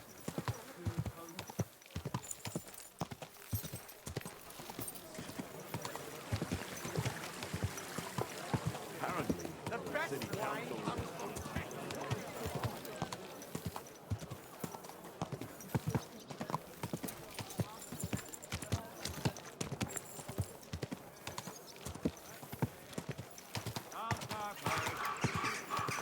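Horse hooves clip-clop in a steady rhythm throughout, with voices talking intermittently over the footsteps and background ambience, in the video game Kingdom Come: Deliverance II.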